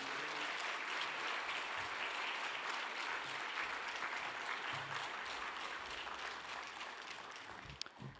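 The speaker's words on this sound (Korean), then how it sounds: "목사님 나오실 때 우리 박수로 환영하십시다" A church congregation applauds to welcome the pastor to a Wednesday sermon, a dense, continuous wash of clapping heard at a distance and fading slightly near the end.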